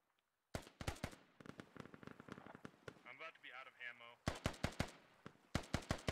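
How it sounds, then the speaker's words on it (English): Rapid bursts of automatic gunfire in the video game Squad crack loudly in clusters, broken by a stretch of voices and radio-like chatter in the middle before the shooting resumes. "There has been a ton of exchange in gunfire."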